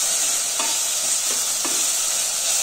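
Egg kurma being stirred in a pan gives a steady, bright sizzle throughout, with three soft scraping stirs spaced about a second apart.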